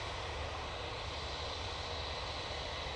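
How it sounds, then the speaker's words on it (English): A Boeing 737 MAX jet lines up for takeoff at Manchester Airport, giving off a steady, broad engine roar heard from a distance without a break. "Right, 737 Max. Line up ready to go."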